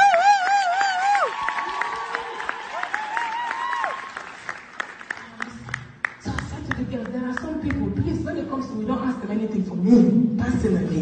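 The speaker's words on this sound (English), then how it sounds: "Can we clap for him?" A church congregation breaks into applause for the pastor's husband, a swelling crowd clapping that takes over after a sung or spoken opening and keeps going steadily to the end.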